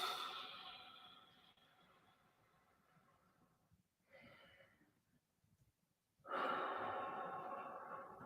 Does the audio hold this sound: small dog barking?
no